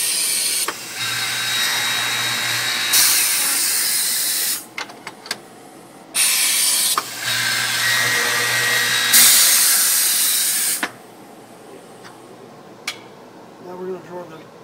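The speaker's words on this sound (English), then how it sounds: "We'll start out by boring the drawer backs." A Grass Zargen drawer machine bores holes in drawer backs: two long bursts of loud whirring hiss with a low hum, and clicks and clatter between them.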